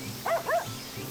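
A dog in the video game Sakuna: Of Rice and Ruin gives a quick double bark, two short yips close together, clear over a quiet game backdrop.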